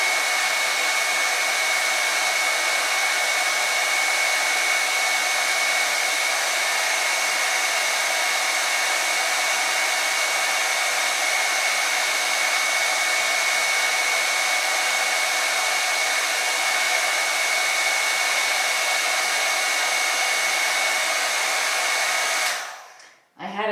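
Hair dryer on its cool shot setting blowing over a wavy wig, a steady, loud, unbroken airflow whir with a faint tonal whine, running continuously and then abruptly cutting off at the very end.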